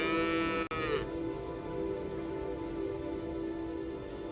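A dairy cow and calf call out to each other with long, drawn-out moos, fairly faint over a steady background hiss of rain.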